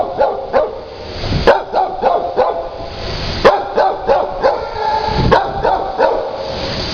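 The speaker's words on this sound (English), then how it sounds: "She can't tell how loud she's barking." A deaf dog barks repeatedly in short, sharp bursts, loud and close, with brief gaps between the barks.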